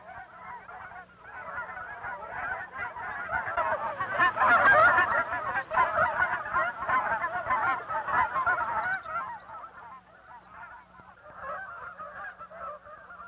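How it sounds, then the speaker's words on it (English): A large flock of snow geese honks continuously in flight, a wild overlapping clamor that swells loudly in the middle and then thins out, with no talking. "the wild clamor of snow geese winging their way swiftly northward."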